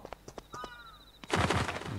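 A crow caws in the horror video game Yomawari: Midnight Shadows, a few short calls followed by a louder burst of game noise, close and without talk.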